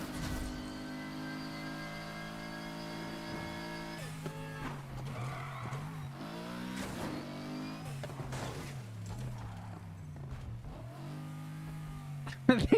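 A video game car engine drones and revs with a rising and falling pitch, steady and prominent throughout, while a person talks over it.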